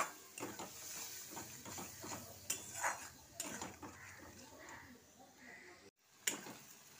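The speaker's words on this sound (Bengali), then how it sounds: "এবার এটাকে ভালো করে কষে নেব।" A spice paste of chilli, turmeric, salt and a little sugar being stir-fried in a pan: repeated scraping and clinking of a utensil against metal over a soft sizzle, close by, in irregular strokes.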